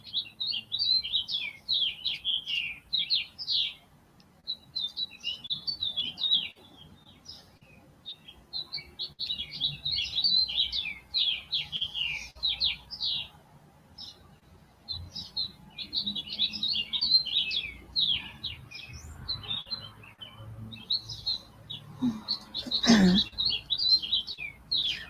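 High, busy bird chirping fills the air in rapid overlapping bursts, steady and fairly loud, with no one speaking.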